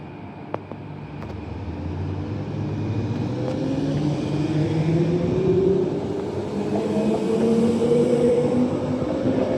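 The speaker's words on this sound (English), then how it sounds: "Train is leaving now." A train pulls out of Midland station on its last day of operations, a low rumbling engine drone that builds steadily and rises in pitch as it accelerates, with no talk.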